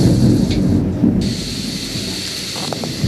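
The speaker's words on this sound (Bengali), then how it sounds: "হয়তো মেঘের আওয়াজ শুনতে পাবেন, বাজ পড়ছে" Thunder during heavy rain, a loud deep rumble rolling under a dense hiss of rainfall, close and continuous for a few seconds.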